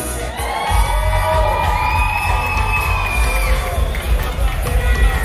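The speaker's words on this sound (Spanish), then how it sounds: "Recibamos también con un fuerte aplauso a Yesenia Vargas y Joshua León Félix." Wedding guests cheer and shout loudly for a couple being introduced at the reception, a dense continuous crowd roar with whoops and raised voices throughout.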